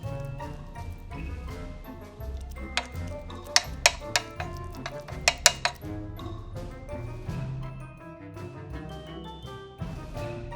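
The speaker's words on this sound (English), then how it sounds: "I'm gonna pat it down with a spoon" A spoon pats keto chicken nugget mixture down into a muffin tin, giving a scatter of light taps and clinks, a tight cluster of sharp ones in the middle, over a steady low kitchen background.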